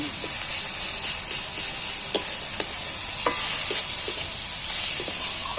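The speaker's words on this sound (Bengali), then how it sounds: "রসুনটা একটু ভেজে নেব" Garlic paste fries in a pan, giving a steady close sizzle with a few sharp spatula taps and scrapes scattered through, no voices.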